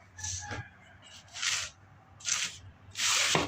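Sharpening stone rubbing on an abrasive grit surface: four short close scraping strokes separated by brief pauses, each a soft gritty hiss rising and fading.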